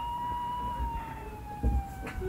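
Ambulance siren in a film, a steady wailing tone that slowly falls in pitch, held at moderate loudness throughout with some low rumble and a brief thump near the end.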